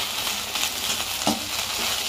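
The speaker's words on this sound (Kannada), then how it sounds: "ಆದಷ್ಟು ಚೆನ್ನಾಗಿ ಡೀಪ್ ಫ್ರೈ ಮಾಡಬೇಕು" Okra frying in hot oil in a pan for a Karnataka-style bendekai gojju, a steady close sizzle with a brief stir or clack partway through, no voices.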